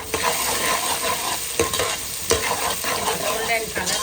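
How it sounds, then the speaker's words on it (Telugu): Sliced onions fry with whole garam masala in a hot pan for chicken pulao, a close, steady sizzle broken by a few scraping stirs of a spoon, with no voices. "సో ఆ హోల్ గరం మసాలా వేసుకొని ఇప్పుడు ఉల్లిగడ్డ వేసుకున్నాను."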